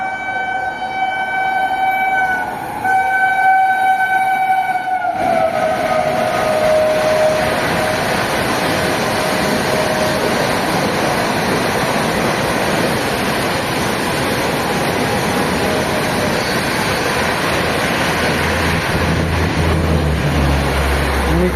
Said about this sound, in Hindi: देखो तेजस राजधानी आ गई। अभी इससे पहले इसको विक्रमशिला ने ओवरटेक किया था, अब तेजस राजधानी देखना कितने जल्दी ओवरटेक कर देगा इसको।